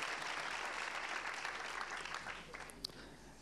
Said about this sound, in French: On peut l'applaudir, Fabien, on le raccompagne.